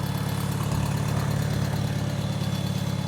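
A tractor engine idles steadily, a deep, continuous rumble with a low throbbing pulse, close by and unchanging throughout.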